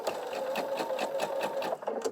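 Sewing machine stitching pieces of fabric together, a steady fast needle rattle in bursts that pause briefly near the end, close and fairly loud.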